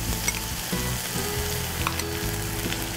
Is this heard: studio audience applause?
no